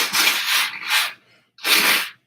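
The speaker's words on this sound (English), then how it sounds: "Blow my nose too." Two breathy, rushing nose blows, the first long and uneven, the second short and sharp after a brief pause, close up with no talking.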